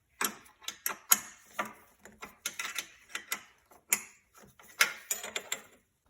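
Ratcheting wrench loosening the bolts that hold a go-kart motor to its mount, heard up close as a series of irregular clicking bursts with short pauses between them.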